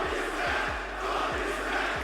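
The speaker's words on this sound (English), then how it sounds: "All the while, the crowd continued to spit bullets with their chants" Rhythmic chanting from a large wrestling arena crowd at a WWE match, a steady roar with repeated chant beats rising and falling throughout.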